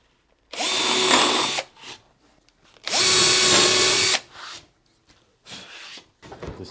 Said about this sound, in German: Der Bohrer, der ist super rattenscharf